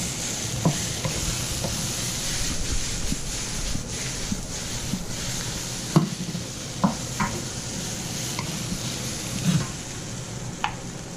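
Fried rice is stir-fried in a pan with stir fry sauce, giving a steady loud sizzle with scraping spatula strokes and occasional clinks throughout.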